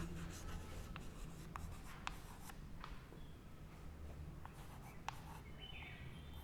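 Writing during a physics lecture on capacitance, faint scratching strokes and occasional sharp taps of a pen or marker against a quiet, steady background, with no speech.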